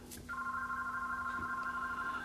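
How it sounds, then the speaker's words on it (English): A telephone rings with an incoming call during a scale-model building session: after a brief quiet moment, a steady, clear electronic ring sounds continuously and fairly loud, with no voices over it. "Uh-oh, incoming phone call."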